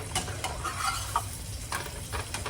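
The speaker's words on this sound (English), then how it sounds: "And then it's just browning it a little bit." Tortilla shell browning in a frying pan for breakfast fish tacos, a steady close sizzle with soft stirring and scraping, no talking.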